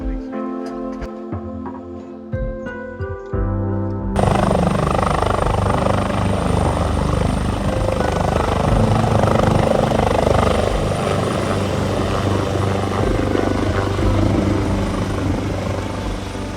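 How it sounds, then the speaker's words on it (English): A Westpac rescue helicopter attending a downed rider, its rotor and engine roar cutting in abruptly after a short musical passage and then holding loud and steady throughout, close by. "So as we bid farewell to the Westpac chopper and Craig"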